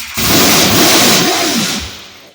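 Race car with a 350 engine and solid roller camshaft fires up and revs hard, a loud, rough roar that holds steady for about two seconds before easing off, with no talking over it.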